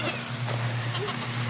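A baby goat on a farm gives short, faint bleats against a steady low background hum, without talk.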